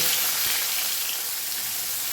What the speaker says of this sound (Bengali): এবারে তেলের ওপর আমি বেগুনগুলো ভেজে নেব